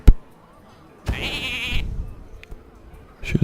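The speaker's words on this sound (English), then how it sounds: "Sheep." Sheep bleating from the Hearthstone video game, one loud wavering bleat in the middle of the clip, with a few faint game sounds around it.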